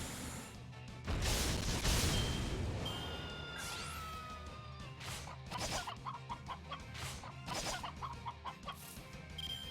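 A chicken in the video game Fate/Grand Order clucks and squawks amid a crashing hit and game effects, followed by a rapid string of sharp clucks and impact sounds, fairly loud and without speech.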